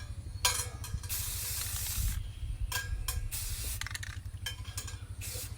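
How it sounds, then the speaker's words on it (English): Spray paint hissing onto an object in several separate bursts of varying length, close and steady, over a low rumbling background. "it is going to overspray and fade into your other color"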